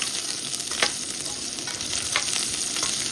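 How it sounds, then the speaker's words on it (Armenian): Ginger frying in oil in a wok makes a loud, steady sizzle close by, punctuated by a few brief scraping strokes of a stirring utensil, with no voices. "տապակում ենք այստեղ նույն յուղի մեջ"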